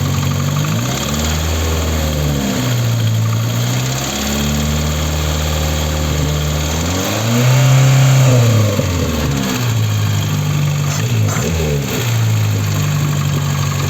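A VAZ 21083 engine idling warm with a steady low hum, carrying a ticking knock thought to come from a worn piston pin in the first cylinder; the engine is close and continuous and nobody speaks.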